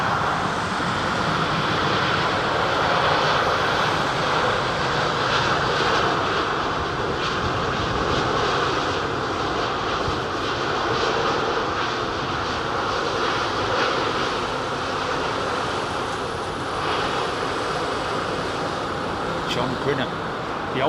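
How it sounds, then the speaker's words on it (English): An Airbus airliner landing at London Heathrow roars loudly with full thrust reversers, a sustained broad rumbling engine blast holding steady throughout, with a voice faintly underneath. "Uses full reversers all the time in his Airbus."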